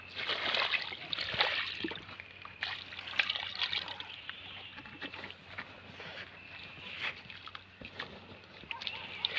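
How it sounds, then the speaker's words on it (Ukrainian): Water poured onto a newly planted rose bush, heard as quiet sloshing and trickling splashes into the soil, faint and close. "Доливаємо ще водички."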